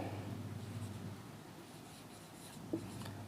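Pen moving on paper, a faint, close scratching and rubbing that runs steadily through the short stretch, with one small tap near the end.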